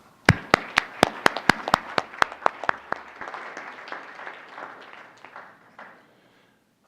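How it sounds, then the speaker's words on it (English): Applause at a school board meeting starts with a handful of sharp, loud individual claps in quick rhythm, then thickens into softer scattered clapping that tapers off into silence. "Another round of applause."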